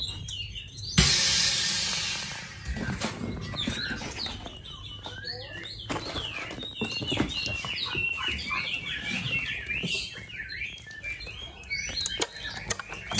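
A Chinese hwamei songbird sings rapid, varied whistles and chirps close by, with a brief broad rustling burst near the start and soft background noise.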